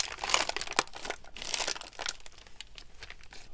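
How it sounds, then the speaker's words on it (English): A plastic bag is crinkled and handled as a work surface at a craft table, giving bursts of close, crackly rustling that come in uneven waves and slowly settle down. "I'm going to use this plastic bag as my surface down here,"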